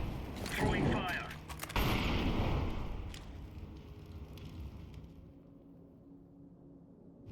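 A fire grenade thrown in Counter-Strike 2 bursts with a loud crackling whoosh, then burns as a steady roaring hiss that slowly fades over several seconds; a voice talks briefly near the start.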